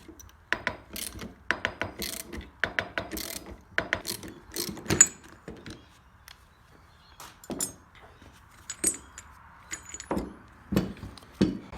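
A socket ratchet clicks in repeated bursts of pawl ticks while pulling a wheel bearing on a Porsche 981, close and fairly quiet. Metallic clinks of tools and parts come between the bursts, with no talking.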